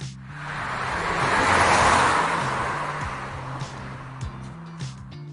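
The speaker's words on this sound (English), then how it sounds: "find a sound effect, so maybe a car driving by" A car driving past as a sound effect: a broad engine and tire rush swells to a peak around two seconds, then fades away, with a steady low hum beneath and a few faint clicks near the end.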